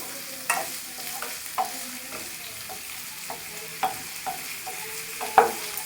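Carrots and mixed vegetables frying in a pan for ragi shavige bath under a constant soft sizzle, with a spoon scraping and knocking through them in occasional sharper strokes, close up and without speech.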